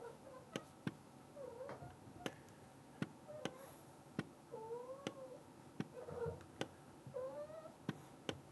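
A cat meows several times, the faint, drawn-out calls scattered among sharp periodic ticking clicks in a quiet room. Sound stays low and distant throughout, with no voices.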